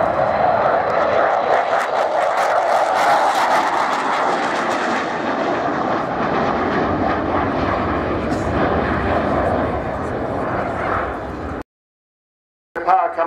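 Four-engined Lancaster bomber powering up for a spiral climb at an air show, a loud continuous propeller-engine roar held steady for about eleven seconds before cutting off abruptly, with voices mixed in.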